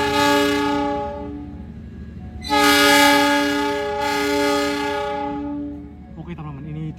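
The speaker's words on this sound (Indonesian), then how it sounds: "ini dia langsiran rangkaian kereta petani maju dan meninggalkan Balai Asa Surabaya Gubeng" A CC206 locomotive shunting a train at the Surabaya Gubeng depot sounds a steady, loud horn, swelling in two stronger blasts before cutting off, then a short clank.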